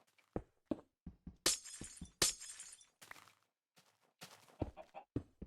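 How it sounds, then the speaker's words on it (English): Glass blocks shattering in Minecraft Beta 1.7.3 while a greenhouse is being built, several sharp crashes spread over a few seconds between quieter block-placing clicks and thuds, with no talking. "will cause a lot of shattered glass, so I hope you don't mind the sound of shattered glass"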